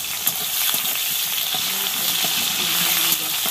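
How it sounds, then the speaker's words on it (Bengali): Sliced onions sizzling in a pan of oil for a chicken dish, an even close frying hiss with light stirring sounds and a few soft knocks, no voices. "এবার এই পেঁয়াজটা একটু ভাজা ভাজা হবে"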